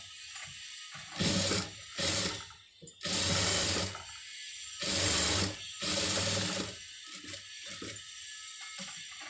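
A sewing machine stitching a blouse neck runs in four or five close, loud mechanical bursts of rapid whirring and clatter, separated by short pauses, followed by faint handling clicks.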